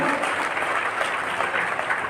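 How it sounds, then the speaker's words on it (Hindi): Loud, sustained applause from a crowd welcoming a student being honoured at an education ceremony in Patna, steady dense clapping that fills the whole moment without a break. "मैं जोरदार तालियों के साथ स्वागत करता हूँ"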